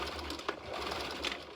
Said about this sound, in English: So I'm going to sew the shoulder seam and the side seams of both of these